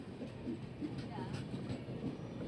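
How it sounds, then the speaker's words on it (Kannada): A Mysore-to-Chennai Central express train rumbles through a station, a faint, steady low roll with soft rhythmic wheel clatter and no clear voices. "ಇವಾಗ ಟೈಮ್ ಒಂದು 7 ಗಂಟೆ ಎಕ್ಸಾಕ್ಟಾಗಿ ನಮ್ಮ ಟ್ರೈನ್ ಬಂದಿದೆ"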